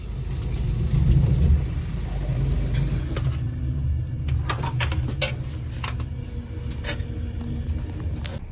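A sensor faucet runs in the bathroom of an Avanti West Coast Pendolino train, a steady hiss of water strongest in the first few seconds and then continuing more softly over the rumble of the moving train, with a few small clicks and knocks.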